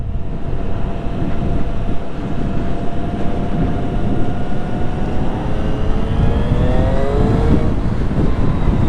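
A 2020 Triumph Street Triple RS with the 765 engine is ridden at speed, its loud, steady engine drone rising in pitch through the gears under heavy wind noise, with no talking.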